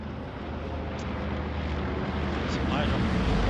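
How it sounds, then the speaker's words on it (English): A low-flying supply drop airplane in the World War II shooter Hell Let Loose makes a loud, steady, broad engine drone that swells slightly as it passes, with voices mixed in. "Supply drop plane is quite low."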